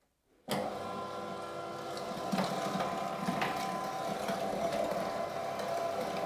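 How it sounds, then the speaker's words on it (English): A meat grinder switches on abruptly and churns pork and back fat through a coarse blade, a steady motor whine with mechanical grinding that thickens as the meat feeds through, close and alone. "So let's grind this first through the coarse blade."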